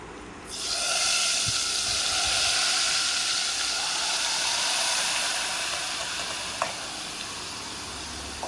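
Hot tempering poured into boiled tamarind juice for pulihora pulusu bursts into a loud, steady sizzle and hiss that holds for several seconds and then slowly eases, with a few small clinks near the end.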